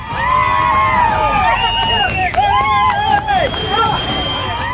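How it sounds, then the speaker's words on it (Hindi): A crowd gathered at the site of a selfie accident in Karnataka cheers loudly, with shrill whistles rising and falling over dense clapping and excited chatter after a girl trapped between rocks is rescued. "ताली और सीटियों का ये शोर बेहद सुकून देने वाला है।"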